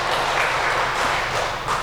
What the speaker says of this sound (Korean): 우리 격려의 박수로